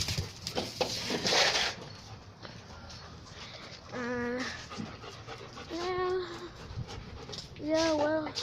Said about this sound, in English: And puppies. Got puppies too.